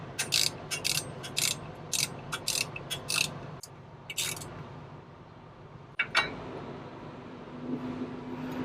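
A hand ratchet tightens bolts on a Carrier Comfort Pro truck APU during an alternator belt change, with bursts of rapid close clicking, then pauses and a few single clunks over a low mechanical hum.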